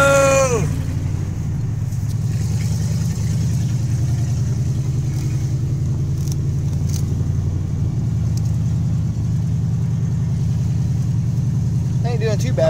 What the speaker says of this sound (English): We're driving 1978 Chrysler Cordoba around the block